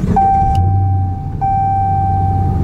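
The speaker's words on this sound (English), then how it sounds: "I'm gonna go ahead and start this car up so we can hopefully get a sound" A damaged, lowered Chrysler 300 idles roughly after starting, its engine a steady close hum with a constant whine and a short dip partway through, no voices over it.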